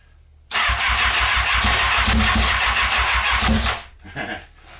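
A Kawasaki ZX6R motorcycle engine fires up on choke, roaring loud and close with a steady fast idle for about three seconds before it sags and sputters down.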